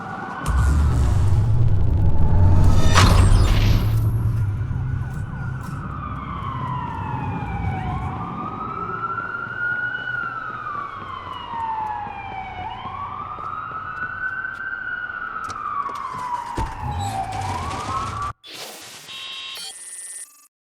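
Police sirens wail and rise and fall repeatedly over a low rumbling street ambience in the Watch Dogs video game, loud and close, with an abrupt cut near the end.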